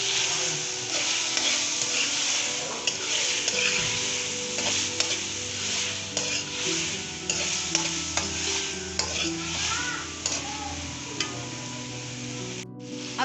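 Chicken and vegetables frying with salt and black pepper for chicken vegetable macaroni, a continuous sizzle under repeated scraping stirs of a spatula against the pan, fairly loud and close.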